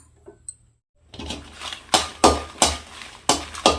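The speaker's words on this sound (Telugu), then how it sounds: "ఇలానే ఫ్రై చేసుకొని డ్రైగా చేసుకోవాలండి ఆయిల్ ఏం వేయకుండా డ్రై రోస్ట్ లోటు మీడియం ఫ్లేమ్లో పెట్టి ఫ్రై చేసుకోండి" Red chillies dry-roasted in a pan without oil over a medium flame for coriander chilli powder, with about six rhythmic, fairly loud scraping and rattling strokes close by and no talking.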